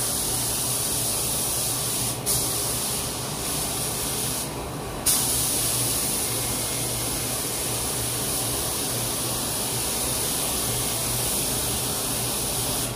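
A spray gun lays clear coat on a 1976 car with a steady, loud hiss that runs throughout, interrupted by brief bursts of stronger spray.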